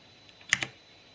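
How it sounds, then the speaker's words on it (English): Two quick, close keystrokes on a computer keyboard, a Ctrl+Q shortcut pressed in rapid succession, crisp and alone in a quiet room. "now I'll do the control Q to cut the window"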